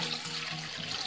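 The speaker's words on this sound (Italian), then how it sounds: "E allora vado a versare metà dell'acqua" Water pours into the bowl of a stand mixer during bread dough preparation, a steady, close gush that runs without break for about a second.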